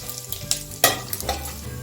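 Curry leaves and asafoetida hit hot oil for a chana chaat, a close, crackling sizzle with sharp spitting pops over a short burst of frying.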